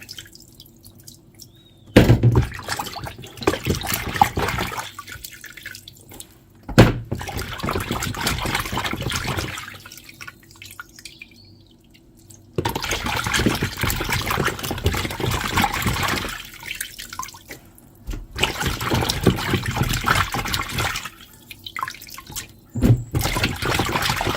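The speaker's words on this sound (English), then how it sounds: "when I wash it, I'm just going to put them inside a bowl" Oxtail pieces being washed in a bowl of water, with repeated bursts of splashing, dripping and trickling that start and stop over about twenty seconds, close up and fairly loud, no talking.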